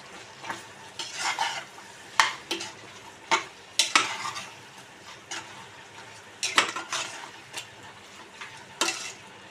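A spoon stirs mutton curry with chili powder in a pan. Repeated scraping strokes land in an uneven rhythm over a soft sizzle of frying, close and clear, with no talking.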